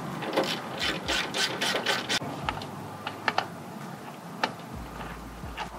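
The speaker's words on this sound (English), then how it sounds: "all you're gonna do is remove this top screw right here and this very bottom screw" A socket wrench backs out the screws of a Toyota Tacoma tail light: a close, rapid run of ratcheting clicks, then a few sparse, separate clicks.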